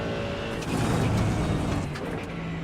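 Tires squealing on a car in the iRacing sim at Silverstone, a sustained loud skid with engine drone that swells through the middle of a cornering run and eases off near the end.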